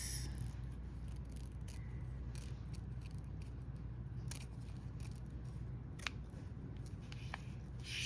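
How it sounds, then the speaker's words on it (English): Scissors cut paper for a card, snipping repeatedly in a quick irregular series of crisp cuts, close by, over a low steady background hum. "I'm gonna go ahead and cut the excess off with my scissors."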